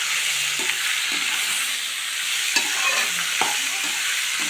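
Tomato chutney mixture is sautéed in a pan, with a steady close sizzle of frying broken by several distinct scraping stirring strokes.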